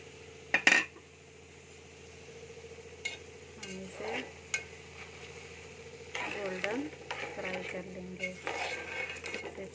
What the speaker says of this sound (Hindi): अब हम सूजी को गोल्डन फ्राई करेंगे।